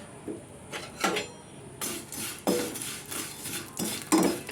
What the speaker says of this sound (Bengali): ঘি দিয়ে সিমইটা একটু ভালো করে ভেজে নেব